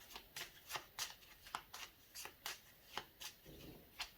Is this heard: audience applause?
no